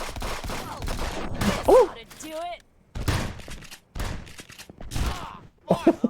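A double shotgun fires in a multiplayer video game, giving a couple of sharp blasts among excited shouting and chatter from the players.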